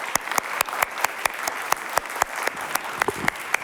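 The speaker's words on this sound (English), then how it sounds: "I would ask the audience to join me in applauding for the panelists." Audience applause for the panelists at a conference discussion on carbon removal and storage, a modest, sparse round of clapping with distinct individual claps standing out in a loose rhythm over a softer background patter.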